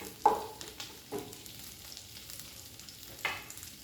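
Garlic fries in a pan with a quiet sizzle broken by a few distinct spatters and clinks near the start and end, close-up, with no voices.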